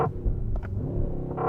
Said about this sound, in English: That is the sound of a synthesized V8